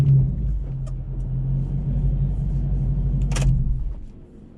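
A boosted 2014 Shelby GT500 Mustang running on a dyno, its engine a deep, steady, close rumble that holds level for several seconds, then drops off and winds down near the end.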